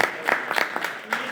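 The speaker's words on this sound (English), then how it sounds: "I'd like everybody to give him a big round of applause for" A small gathering of people applauds a company's CEO and chef, with brief scattered claps, uneven and loose, over a short moment at moderate volume.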